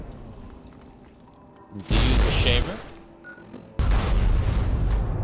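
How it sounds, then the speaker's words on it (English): Two loud blasts in the Fallout game, each a sudden booming burst with a rumbling tail, separated by a quieter stretch of low noise. "Oh, it's gonna blow up!"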